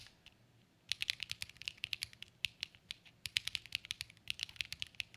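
Keys on a computer keyboard clack in quick irregular bursts, close and fairly quiet, with no talking.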